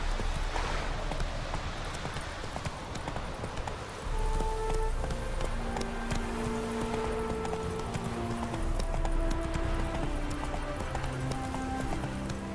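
Hooves of Roach, the horse from The Witcher 3, pound in a quick, steady galloping rhythm, close and prominent throughout, with soft musical tones layered underneath.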